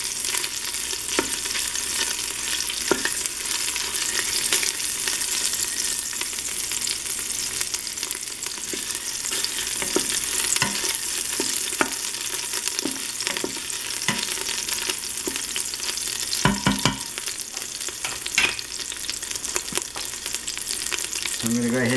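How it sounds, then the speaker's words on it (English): Fat rendering down in an Instant Pot before searing meat for carne guisada, a loud, continuous close sizzle and crackle with occasional louder pops and brief utensil scrapes. "I'm cooking all this fat down so we can get a little bit more grease, because we're going to sear our meat."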